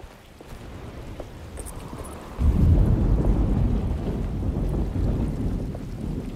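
A thunderstorm rolls in Alone in the Dark, steady rain and wind noise building as a deep thunder rumble swells suddenly and holds loud, with no talking.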